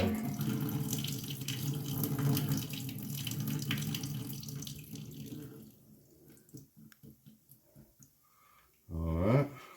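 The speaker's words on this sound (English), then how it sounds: "We're going to drain this corn and just pour that juice out of there." Juice from a can of drained corn pours into a kitchen sink for taco soup, a steady splashing stream that thins into scattered drips and trickles before a short louder gush at the end.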